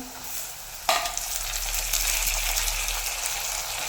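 Onions brown in a pan for aloo sabzi, a potato curry. A single sharp clunk of a utensil starts a steady, close sizzle that carries on with soft stirring, alone without talk.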